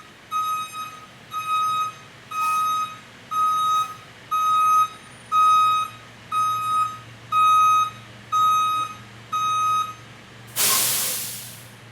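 A fire engine's backup alarm beeps steadily while the truck reverses, about ten evenly spaced tones, then a sharp burst of air brake hiss at the end.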